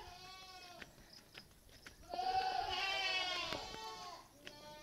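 Goats on a small family farm in the Philippines bleat, with scattered short cries giving way to one long, loud, wavering bleat in the middle, all over a low rustling farmyard background.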